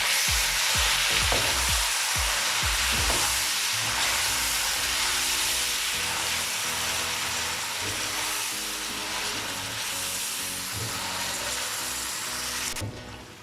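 Chicken pieces frying hard in a pan for Murgh Noormahal biryani, a loud dense sizzle and steamy hiss running throughout, with heavy stirring thumps and scrapes near the start, close and with no talking.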